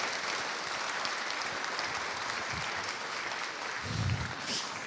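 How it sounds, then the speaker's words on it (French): Audience at a stroke conference applauding, sustained dense clapping from a roomful of people that swells slightly near the end. "Je crois que ça mérite des applaudissements."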